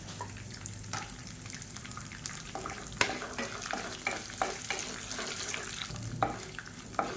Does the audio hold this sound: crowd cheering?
no